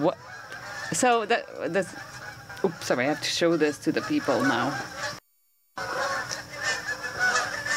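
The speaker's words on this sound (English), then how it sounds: "that sound you're hearing is a huge flock of Canada geese" A large flock of Canada geese flying south honks overhead in overlapping, irregular calls, loud and close, while someone talks over them; a brief dropout cuts the sound before the honking resumes.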